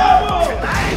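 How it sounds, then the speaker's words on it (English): A large crowd roars and yells at a Tekken tournament grand final in Cape Town, a loud sustained cheer filling the whole moment with a hint of commentary underneath. "The crowd explodes."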